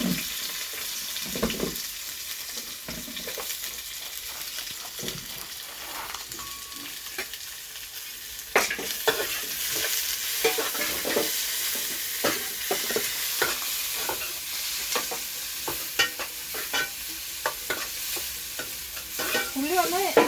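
Onions sizzle in a pan for a beef liver fry, with a soft steady hiss broken by scraping stirs and utensil clatter that grow busier and louder partway through.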